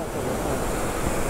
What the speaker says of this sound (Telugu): సో ఇదే అనమాట ఈ బుడ్డి వాటర్ ఫాల్.